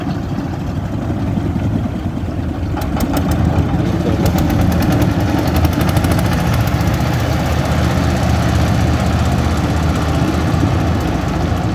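A steady, loud motor drone of a trawler boat engine chugging close by on a river, with a few faint clicks partway through.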